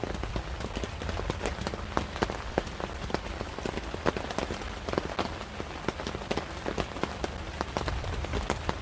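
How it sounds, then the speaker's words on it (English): Steady rain drums on a tent roof at night, dense pattering with many sharp individual drop hits scattered across a constant hiss, close and moderately loud, no voices. "Nightshade, I love to hear the rain beating on the roof,"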